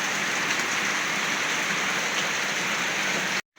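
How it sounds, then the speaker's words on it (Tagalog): Steady rain falls in an even, continuous hiss that stops abruptly at the end. "Sobrang lakas po ng ulan kanina. Buti lang ngayon parang humina na po siya"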